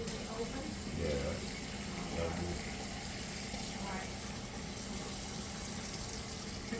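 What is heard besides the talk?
cold water running from a tap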